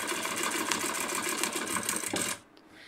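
A domestic sewing machine runs fast and close during free-motion quilting, its needle chattering in a rapid, even rhythm before it abruptly stops, leaving near silence.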